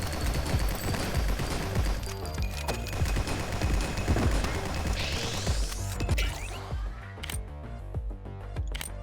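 Rapid rifle gunfire in the video game Nimrods, a dense stream of loud shots with mechanical clatter layered over game music, with a brief lull near the end.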